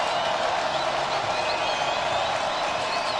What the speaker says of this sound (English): Crowd comes alive on third down at about 4.